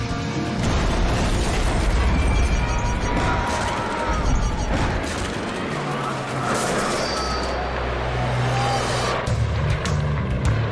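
A 6,000-pound helicopter crashes hard into the ground near a crowd: grinding, banging impacts and mechanical clatter over a constant roaring rumble, continuing for several seconds.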